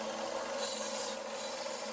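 An engine part is sanded by hand, giving a quiet, continuous gritty rubbing with slight back-and-forth swells over two seconds and no talk.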